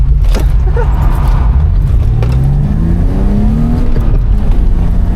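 A BMW E36 drift car accelerates hard on a track, its engine loud and close, with rising rev sweeps and a steady roar that fills the whole stretch. Faint tyre squeal may sit under the engine.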